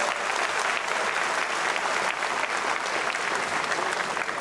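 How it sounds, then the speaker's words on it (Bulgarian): A crowd at a kickboxing event in Varna gives sustained, loud applause for a birthday honoree, a dense, even roar of many hands with no break and little voice in it. "Моля аплодисменти за него."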